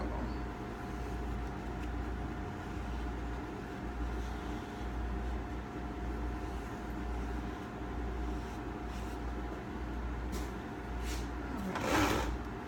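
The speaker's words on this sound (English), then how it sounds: "It's actually called the vacuum bipolar radio frequency." A vacuum bipolar radio frequency beauty device running with a steady low mechanical hum and a faint constant whine, close and moderately quiet, with a few soft clicks and a brief scrape near the end.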